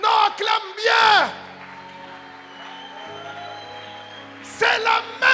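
A church congregation erupts in loud cheering and acclaim during a sermon, with voices whooping and shouting in bursts at the start and end, while a sustained organ or keyboard chord fills the quieter middle stretch.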